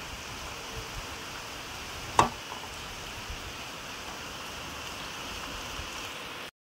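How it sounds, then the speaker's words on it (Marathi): Steady, dense rain hiss fills the clip, with one brief sharp knock partway through; no voices. "इतका पाऊस आलाय ना हे बघा"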